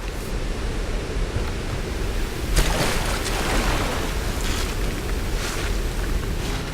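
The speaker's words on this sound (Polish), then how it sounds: "spójrz na wodospad po lewej stronie." Waterfall in the video game Tomb Raider (2013), along a path near a mountain temple, gives a steady, full roar of rushing water. The broad wash stays constant throughout, with a slightly brighter surge partway through and no voices.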